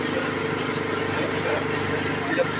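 An MTD 76 riding lawn tractor drives up a steep slope with a steady, mid-pitched engine drone throughout. A voice may be faintly present under the engine.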